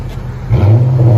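A Chrysler 300C 5.7L HEMI V8 with carbon TRs, rear delete and 4.5-inch tips goes from a quiet idle into a loud, deep exhaust rev up close.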